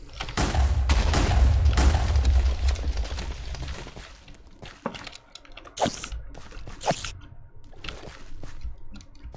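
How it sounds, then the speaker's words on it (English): A chest explodes in the Strawberry Jam video game with a loud, rumbling blast that fades, followed by several sharp bursts and pops. "And that chest is going to explode."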